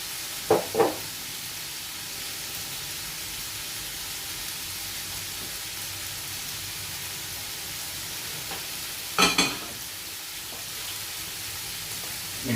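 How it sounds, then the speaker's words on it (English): Oil in a frying pan gives off a steady, soft sizzling hiss that runs throughout, broken by a couple of brief clinks and knocks from utensils or the pan. "I'm gonna use another pan here. I'm gonna tip a bit of oil in."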